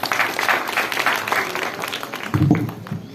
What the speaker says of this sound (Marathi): प्रणवसाठी जोरदार टाळ्या.